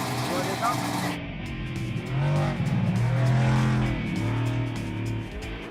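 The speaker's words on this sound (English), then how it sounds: "70 trucks and buggies start a series of races, but less than half will survive" Race trucks and buggies tearing around a dirt circuit at the 24 Hours of Nürburgring, engines droning and rising in pitch as they pass, loud and continuous with a broadband roar throughout.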